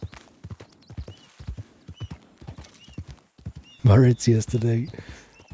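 Horse hooves clip-clopping along with a horse's whinny, heard under an ongoing conversation, the voices growing louder toward the end.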